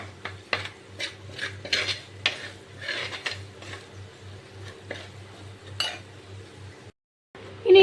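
Ingredients for gooseberry pickle are stirred and roasted in a hot pan, giving repeated scraping and clinking of a spoon against the pan in an irregular rhythm, close and fairly quiet, with a brief pause near the end.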